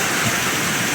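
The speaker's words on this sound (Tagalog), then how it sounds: "Rain, rain, go away." Steady rain falls over a home garden in the Philippines, a dense, even hiss with no break through the whole short stretch.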